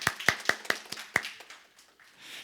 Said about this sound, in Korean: 우리 큰 박수로 격려해 주시기 바랍니다.